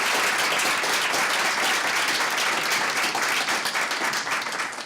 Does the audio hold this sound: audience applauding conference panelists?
yes